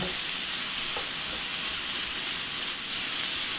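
Pork cooking fast over medium-high heat for Thai drunken noodles gives a steady, loud, close hiss of frying with no pauses and no talk.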